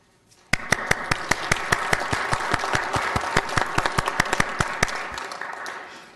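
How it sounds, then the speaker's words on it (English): Clapping from a council committee gallery as project team members stand to be recognized, starting abruptly and made of many distinct close claps over steady applause, thinning toward the end. "No clapping in the gallery otherwise, though."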